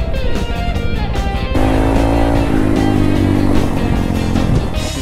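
Honda Grom motorcycle ridden offroad on a dirt trail, its small engine buzzing steadily and close, with the note rising and holding as the bike pushes on through the whole stretch.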